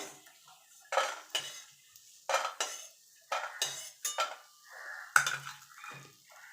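Fried lentil dumplings (biulir daler bori) lifted from hot oil and dropped into a bowl, a series of separate clattering clinks of utensil against metal spaced through the clip, with faint sizzle underneath.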